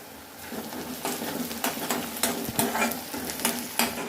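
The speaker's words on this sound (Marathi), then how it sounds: "हे बघा आता कांदा पण आपला शिजत आलेला आहे" Onion sizzles and fries in a pan while a spoon stirs it, steady sizzling with repeated scraping strokes up close, no voices.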